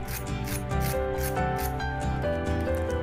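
Crispy fried potato lollipops crackling and crunching as they are handled, a dense, continuous rough rasping close up, with no voices.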